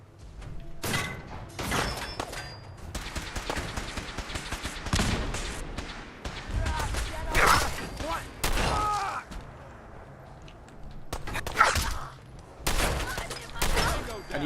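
Repeated bursts of gunfire in Fallout 4 ring out in loud, sharp volleys with short gaps between them, close and punchy, while ambient game sound runs underneath.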